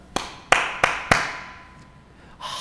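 A few people in a church clap slowly and without enthusiasm: four sharp, evenly spaced claps that fade into quiet, then a faint fifth sound at the end.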